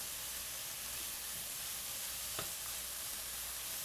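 Kale sautéing in a large skillet, wilting down: a steady, even sizzle and hiss runs throughout at moderate level, with one brief soft clink partway through.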